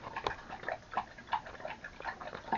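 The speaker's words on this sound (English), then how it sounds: "Dog's getting a drink." A dog laps water steadily at close range inside a converted school bus camper, with a quick, rhythmic series of wet slurping splashes and no voices.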